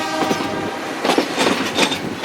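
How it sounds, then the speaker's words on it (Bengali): Train horn of a 2600 series locomotive hauling the 18-coach Tista Express, sounding in loud bursts over steady rolling rail noise and wheel clatter, heard close from on board. "2600 সিরিজের লোকোমোটিভের আওয়াজ, হর্নের।"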